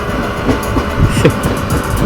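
Steady rumbling of a train rolling along rails on a curve, continuous low roar with faint rhythmic clatter, fairly loud throughout, on the line from Mangalore to Murudeshwar.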